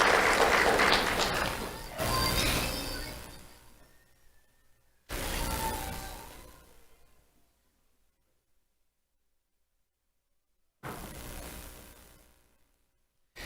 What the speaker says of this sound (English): Let's have a round of applause for Jeremiah Chavez.